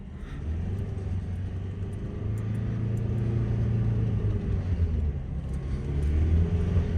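A Volkswagen Amarok pickup's engine runs steadily at high revs during a catalytic converter cleaning after getting stuck in snow, a continuous loud low rumble that builds slightly over the seven seconds, close up with no talking.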